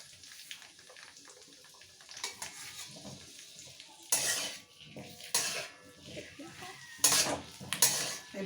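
Potatoes cook and get stirred in an iron kadai, with a metal spoon scraping and clanking against the pan in scattered bursts over a faint sizzle, close by and without speech.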